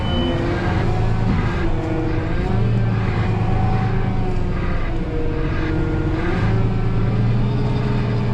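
A large concrete truck engine rumbles steadily nearby at a house footings pour, its low drone rising and falling as it maneuvers slowly, with no talking.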